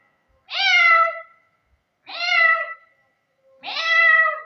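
A person imitates a cat with three drawn-out meows, each about a second long and evenly spaced, close and clear with silence between them.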